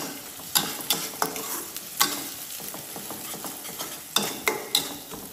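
Ginger-garlic paste fries in a pan while a spoon stirs it, giving a soft steady sizzle broken by sharp scraping clicks and taps at irregular intervals, close and with no one talking.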